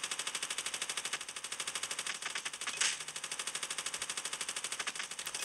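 Rapid, continuous automatic machine-gun fire from a team deathmatch shooter video game rattles at an even pace for several seconds, with a brief louder burst partway through and no talk.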